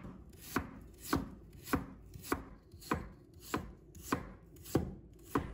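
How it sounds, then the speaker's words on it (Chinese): A knife slices peeled water chestnuts on a cutting board in about ten steady, evenly spaced chops, close and crisp, with no talking. "全部削好后，把它切成片"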